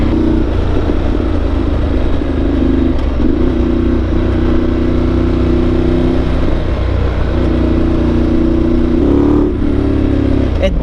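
A Ducati motorcycle engine drones loudly and continuously while the bike is ridden. The throttle rises and eases in places, and wind and road noise run underneath throughout.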